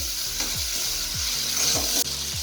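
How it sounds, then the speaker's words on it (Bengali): Spices with a little turmeric being stirred in a frying pan for a katla fish curry: steady sizzling under a series of rhythmic scraping strokes, about five in a row. "অল্প একটু হলুদ দিয়ে দিলাম। 2-1 মিনিট নাড়াচাড়া করবো।"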